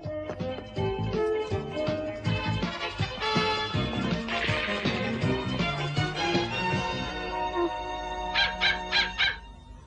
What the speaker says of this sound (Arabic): هذا الكلب سريع جدا